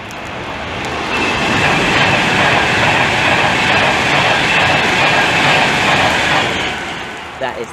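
A Class 390 Pendolino electric train rushes through Milton Keynes Central station on the West Coast Main Line, loud and close, its roar swelling within a second and holding steady before fading near the end, wheel clatter mixed in.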